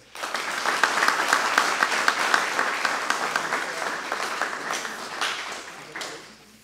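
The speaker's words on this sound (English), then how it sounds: "let's have another round of applause for all the graduates, class 2021-02" A crowd at a deputy academy graduation ceremony applauds the graduating class, a dense, sustained wash of many hands clapping that holds steady before fading out near the end, with some voices underneath.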